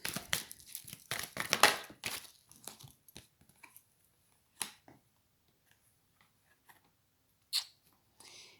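Tarot cards shuffled and drawn: a quick burst of crisp flicking and snapping card sounds, then sparse single taps and one later flick, close and quiet.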